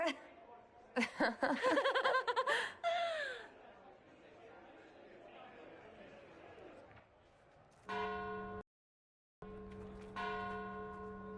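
Bells ring out in Dragon Age Inquisition, sustained tolling tones with strong harmonics that start after a stretch of loud laughter and chatter. There is a brief dropout, then the ringing continues steady and loud.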